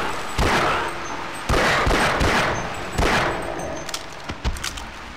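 Enemy gunfire in the video game Half-Life: Blue Shift comes as three loud bursts of rapid shots about a second and a half apart, followed by a few sharper, scattered cracks.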